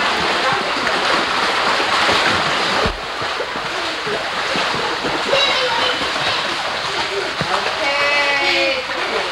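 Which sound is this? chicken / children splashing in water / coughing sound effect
children splashing in water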